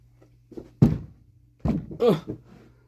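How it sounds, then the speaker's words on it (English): A foot bangs into a desk indoors, giving a couple of dull thuds close by, with a short gap between them and quiet room noise around. "How comes you keep banging your fucking gimp foot into the desk?"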